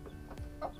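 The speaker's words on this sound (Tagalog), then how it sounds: "Kakagulo yung mga hen ngayon." Hens in a Filipino backyard coop cluck and squawk in agitation after their chicks were taken away, a few short, close calls bunched together in under a second.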